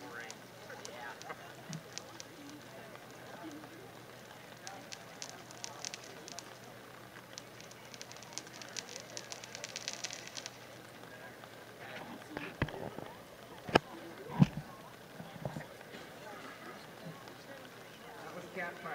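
A Black Cat Legend Cat Fight firework goes off at a distance, giving a long run of faint crackling with a few sharper pops. People talk over it.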